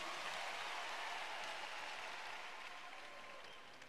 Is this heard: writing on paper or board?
no